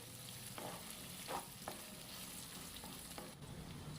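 Soaked cashews with ginger and garlic fry and sizzle steadily in a pan, a constant crackling hiss broken by a few soft stirring scrapes, close and on its own without speech.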